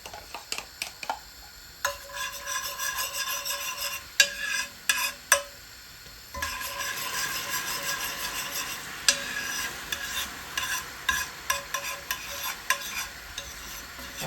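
Sugar being stirred in a pot to make browning, with steady scraping stir strokes and light sizzling, a pause near two seconds, then denser stirring with sharp clicks of the spoon against the pot.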